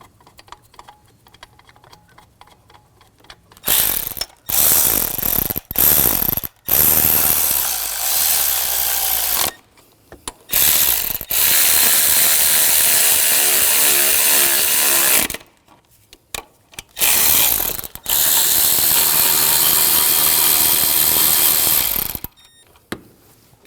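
A ratchet tightens upper engine mount bolts on a 2001-2009 Volvo S60, giving long loud runs of rapid close clicking broken by short pauses and repositioning.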